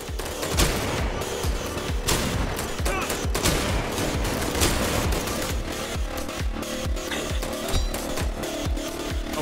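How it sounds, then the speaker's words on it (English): Rapid gunfire from a video game, with a shotgun among the weapons, keeps up as steady loud bursts for the whole stretch, with no speech over it. "Shotgun."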